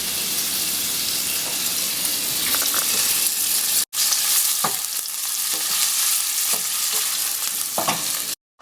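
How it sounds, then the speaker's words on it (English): Bacon and about two tablespoons of olive oil fry in a pan, a bright steady sizzle close by with occasional stirring scrapes and a brief cut midway. "So now we've got our bacon and our olive oil cooking off."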